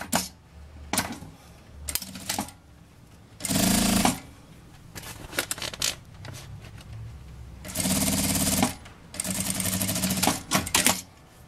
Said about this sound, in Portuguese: vou passar a costura aqui com um pé de máquina